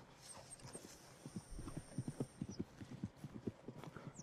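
Horse hooves clip-clop at a steady walking rhythm on a path in the Red Dead Redemption 2 video game, fairly close and moderately quiet, with faint ambient background sounds.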